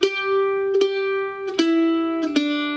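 Bluegrass mandolin picking the opening notes of Worried Man Blues, four clear plucked notes in steady quarter-note downstrokes, each ringing bright with harmonics and stepping slightly lower in pitch, close and alone.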